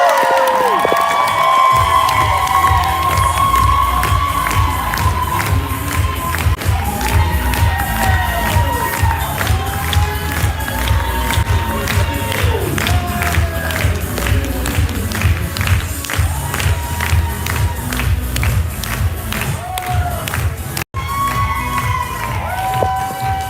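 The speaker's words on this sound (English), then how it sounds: "please a round of applause for Pauline Duffy." An audience at an award ceremony cheers, whoops and claps, a loud sustained crowd roar with rapid dense clapping and high shouts rising and falling for over twenty seconds.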